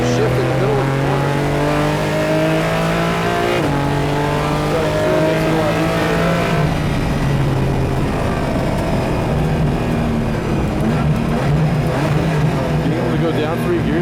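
Porsche Cayman GT4 race car engine howling close up on track, revving hard with repeated quick downshifts that drop the pitch in steps, continuous and loud, with brief speech over it.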